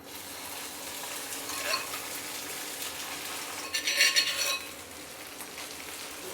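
Spice paste for khao soi, a Thai noodle soup, frying in a little oil: a quiet, steady sizzle with a brief louder burst of stirring near the end.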